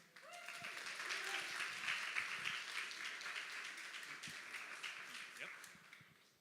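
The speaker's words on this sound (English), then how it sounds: "So big applause for them." Audience applause at a panel event, steady clapping through the whole stretch at moderate distance, with some voices mixed in underneath.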